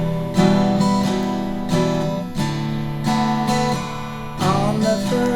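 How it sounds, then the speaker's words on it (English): Acoustic guitar strummed in a steady pattern of down and up strums, with repeated chord attacks ringing out clearly and alone, no voices. "Once you're beyond that, you throw in a couple of up strums,"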